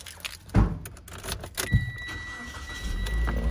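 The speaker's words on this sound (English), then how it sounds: "Give the car a quick start now." A 2019 Mitsubishi ASX engine cranks and starts amid a jangle of keys and interior clicks, then settles into a steady close idle hum with a faint electronic chime.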